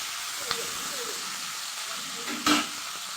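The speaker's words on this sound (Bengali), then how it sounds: "তো দেখো মাছগুলো আগে প্রথম ভেজে নিই।" Pieces of fish fry in hot oil with a steady sizzling hiss, marked by a faint tap early on and a louder spatter burst near the end, close up and without speech.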